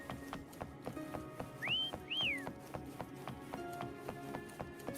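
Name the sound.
whistling to call a mount in the video game Wuthering Waves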